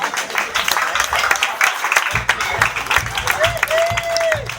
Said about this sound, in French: maintenant, déjà on va l'applaudir très très fort